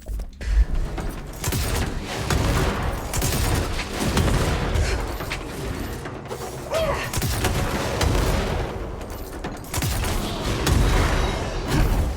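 Grenade launcher fire in the video game Control, played on Xbox Series X, comes as dense, loud, repeated booming blasts that run almost without pause through a thick mix of combat noise.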